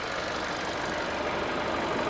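Continuous Hyundai Sonata engine drone with the AC running, a dense, even whir, steady and fairly loud throughout with no talking.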